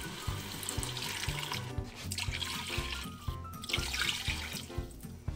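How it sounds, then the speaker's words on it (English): Cups of water pour into a cooking pot holding seared beaver meat, a steady, fairly loud splashing rush that runs for several seconds without talk. "I'm gonna go ahead and add a couple cups of water."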